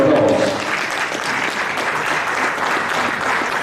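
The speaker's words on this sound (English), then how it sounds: "Please a round of applause." Loud, sustained applause from an audience fills a university retirement ceremony hall, steady and dense throughout with no talking over it.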